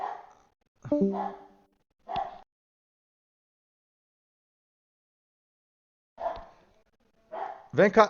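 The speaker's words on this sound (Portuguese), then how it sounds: "A minha cachorrinha tá latindo, gente, socorro!" Small pet dog frightened by fireworks, giving a handful of sharp barks in separate bursts with silent gaps, the last ones louder and close; a person speaks briefly.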